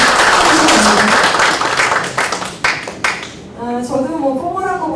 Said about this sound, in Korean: 다시 한번 큰 박수로 두 분한테